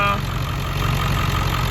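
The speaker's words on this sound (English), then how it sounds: "it sounds like a good running diesel engine" A 2002 Ford F-350 4x4 with the 7.3L diesel engine idling close by under an open hood, giving a steady, loud low rumble with an even clatter and no break.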